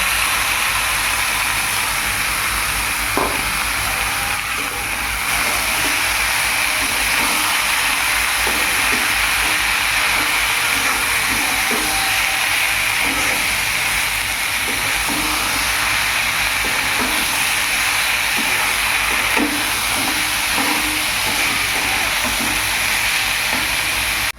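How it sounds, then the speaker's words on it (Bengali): Raw papaya greens and potatoes frying in a pan make a steady, continuous sizzle with a hissing wash of steam and occasional soft stirring clicks, loud and close throughout. "এখন দিয়ে দেব আমি শাক আর আলুগুলো দিয়ে তারপর ফ্রাই করব একসঙ্গে"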